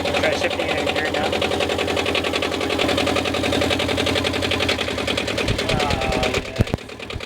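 A repaired sailboat engine runs loudly and steadily with a rapid mechanical chatter and knocking rhythm, then is shifted into gear near the end, where the tone briefly changes and a clunk is heard.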